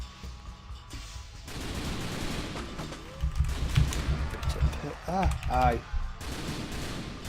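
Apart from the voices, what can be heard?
gunfire shooting zombies in video game The Typing of the Dead: Overkill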